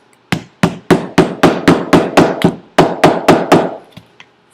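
A hammer repeatedly strikes an awl driven through a handmade visual journal, about a dozen sharp, loud, evenly spaced knocks with a brief pause midway, then a final faint tap.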